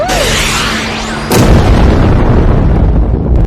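A cartoon rocket explosion releasing sleeping-gas smoke: a whooshing, whistling approach breaks into a sudden loud boom, followed by a sustained roaring, crackling rumble of blast and billowing smoke.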